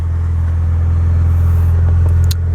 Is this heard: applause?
no